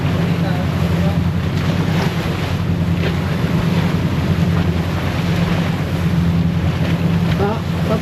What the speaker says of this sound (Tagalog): Tatlo, marine engine daw lahat.